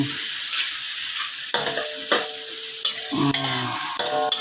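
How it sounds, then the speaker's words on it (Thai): Chili stir-fries in a wok for a mussel and basil stir-fry, a bright hiss punctuated by several sharp metallic spatula clanks against the wok, close and fairly loud with no voices. "นี่ผัดไปให้พริกหอม"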